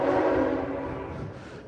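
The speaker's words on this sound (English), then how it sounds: "Why did that train blow its horn so loud late at night?" A train horn blows late at night in Cranford, New Jersey, one long, loud, steady blast that slowly fades, heard from nearby with no talking over it.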